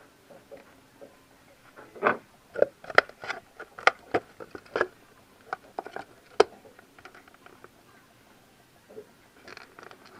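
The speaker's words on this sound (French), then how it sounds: "Voilà, on dévisse." Drain plug being unscrewed with a wrench during a car oil change: a series of sharp metallic clicks and ratchet-like ticks, scattered irregularly and fairly close, then quieter light tapping.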